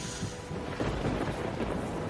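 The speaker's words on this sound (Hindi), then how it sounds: "बाहर बारिश तेजी से गिर रही थी।" Heavy rain pours down with thunder, a dense steady wash of rainfall under a low rolling rumble, loud and unbroken, with no voices.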